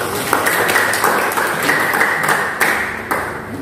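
Church congregation clapping during a sermon, an even spread of applause with a few sharper bright hits standing out, moderately loud and without speech over it.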